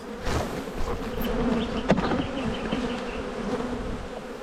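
A dense, steady buzz of many honey bees swarming close around a hive, continuous and loud with no talking.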